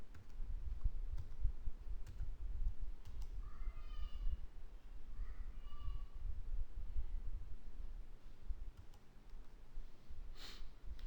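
Mouse clicks and keyboard typing while entering start and end times into work schedule software, faint and sparse under a steady low background hum, with a few soft short tonal chirps partway through.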